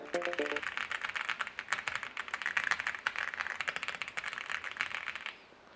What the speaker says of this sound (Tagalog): Sa mga favorite parts ko dito sa Ayula F75 ay yung tunog niya.